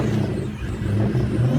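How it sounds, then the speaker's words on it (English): A Ferrari pulling away, a brief low engine rumble and whir of the car moving off, fairly close and steady with no talk. "Frank leaves off with a beautiful Ferrari, while Micro goes off with a van"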